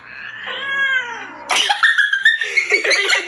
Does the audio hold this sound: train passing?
no